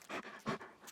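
A calm, laid-back service dog pants nearby in two or three soft breathy bursts, quiet and close with no talking.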